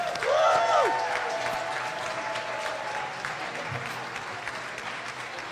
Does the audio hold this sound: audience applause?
yes